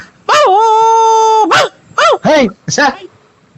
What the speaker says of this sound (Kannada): ಓ ನಮ್ಮನೆ ನಾಯಿ ಬಂದೈತ್ ನೋಡಿ ಸ್ವಾಮಿ